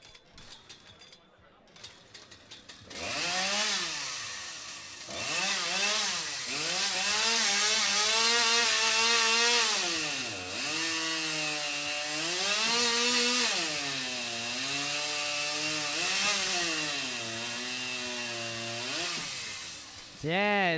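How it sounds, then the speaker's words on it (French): Chainsaws rev and bite through logs at a timed wood-cutting competition, a loud near engine whine rising and falling through several cuts after a brief quieter opening with scattered knocks. "Il y a plusieurs heures de pratique et de pratique avec ces scies mécaniques-là."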